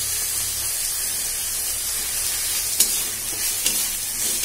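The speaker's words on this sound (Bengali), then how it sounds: "আমি টমেটোটা ভালো করে কষিয়ে নিচ্ছি।" Chopped tomato sizzles steadily in a hot pan, a constant loud frying hiss with a few sharper spits and stirring scrapes near the end.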